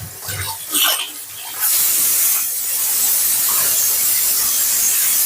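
A pressure cooker on a stove releases steam, a low rumble with brief knocks giving way to a loud, sustained hissing whistle that holds steady to the end.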